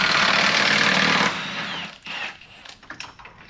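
Impact wrench breaking loose big subframe bolts on a Porsche Cayenne S, a loud continuous buzzing hammer for over a second that cuts off, followed by quieter clanks and handling noises.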